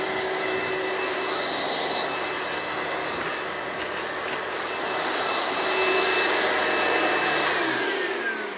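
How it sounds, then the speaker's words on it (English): A vacuum cleaner runs steadily with a high whine and airy roar, rising slightly in pitch and loudness near the end before cutting off. "And then you want to turn on your vacuum."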